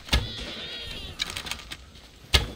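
Goat bleating in the Greek countryside of the video game Assassin's Creed Odyssey, a few short, wavering bleats close by with brief gaps between them and a quieter stretch of faint background in the middle.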